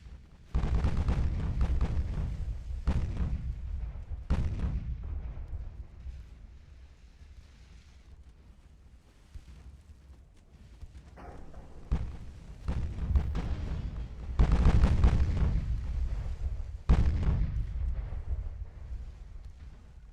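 Naval guns boom in the Ultimate Admiral: Dreadnoughts game, with heavy, deep blasts that roll out and decay, about a dozen irregularly spaced salvos, some overlapping, loud and close, with no talking.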